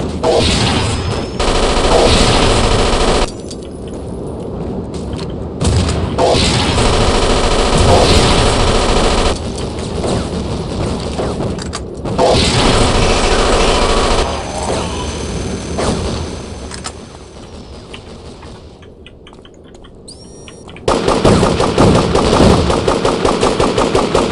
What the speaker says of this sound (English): Oh, he's got a little handheld minigun.